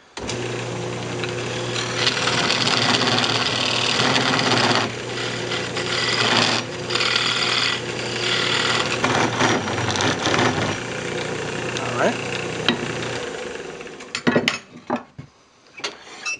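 A wood lathe spins a turned wooden hamburger press while a tool parts it off, giving a loud steady motor whir with scraping cutting noise that ends in a few clunks as the piece comes free.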